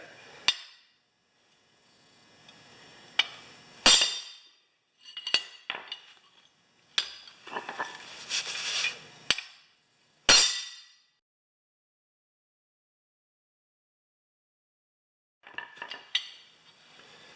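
Sharp metal clangs ring out as a steel pipe strikes a tractor wheel flange against steel, in several separate loud blows with clinking in between, and then a long stretch of silence before a few quieter taps.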